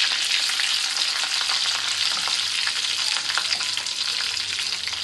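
Crushed garlic and curry leaves frying in hot oil, a steady, dense sizzle that stays loud and even throughout with faint stirring underneath.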